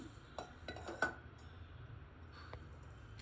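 In a kitchen, a steel box is handled with a few light metallic clinks and taps, close and quiet, scattered irregularly against a soft background.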